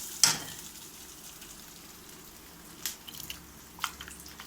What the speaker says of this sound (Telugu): ఇప్పుడు మనం సొరకాయ కట్ చేసుకున్నాం కదండి, అది వేసేసుకుందాము.